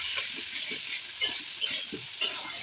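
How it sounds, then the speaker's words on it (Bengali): Diced potatoes and onions stirred in a hot pan, a soft steady sizzle broken by rhythmic scraping bursts from the spoon, close and fairly quiet. "এবার আলুটাকে 2 থেকে 3 মিনিট এইভাবে পেঁয়াজের সঙ্গে একটু নাড়াচাড়া করে নিতে হবে।"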